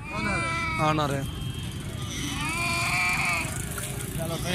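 Goats bleat at a busy livestock market, several wavering calls overlapping amid crowd chatter and a constant hubbub of voices.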